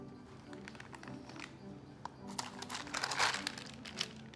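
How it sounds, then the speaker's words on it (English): Parchment paper crinkling as a Christmas yule log sponge cake is rolled up, soft rustles building into louder, closer crackles toward the end. "So as I'm rolling, I'm undoing the parchment paper."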